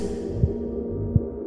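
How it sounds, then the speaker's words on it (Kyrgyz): Meditation heartbeat track: two soft, deep thumps about three-quarters of a second apart over a steady low hum, with no voices. "жеңил ритмдеги жүрөктүн соккону коштоп барат."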